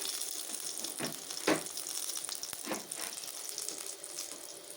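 Stuffed pointed gourds (potol) dropped one by one into hot oil, a soft continuous sizzle with a few brief bursts as each piece hits the pan, quiet and close with no talking.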